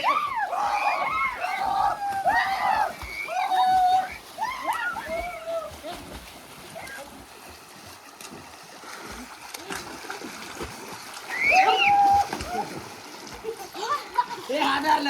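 Water splashes and sloshes as mud is thrown into a village river during bathing, with repeated close splashes under loud excited shouting and children's voices.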